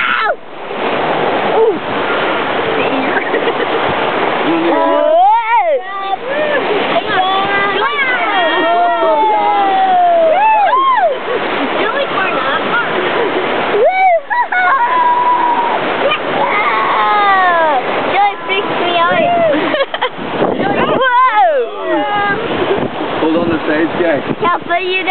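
Water splashing and rushing around a round raft on the Alton Towers River Rapids ride, continuous and close with wind buffeting, while riders shout and exclaim over it throughout.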